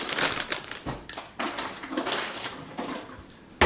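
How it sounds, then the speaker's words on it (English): A spoon stirs cauliflower wings through sticky honey sriracha sauce in a bowl, making repeated wet scraping and clinking strokes with short pauses between them. "So are you going to want to use a spoon to mix that up?"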